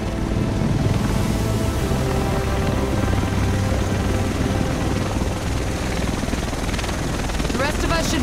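A helicopter from the video game The Division comes in with a loud, steady rotor roar that fills the whole clip, mixed with rumble and noise from the surrounding scene.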